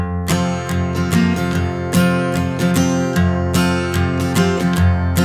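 Acoustic guitar strumming the chords of a song, a steady run of bright, close strokes in a lively rhythm with ringing chords throughout, played alone without any talking.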